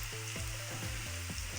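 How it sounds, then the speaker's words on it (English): Chopped onion sizzles steadily in hot oil in a pan, a dense close crackle running throughout, with a few low clattering touches of a utensil against the pan. "Add the onion to the oil. Let it simmer for a while."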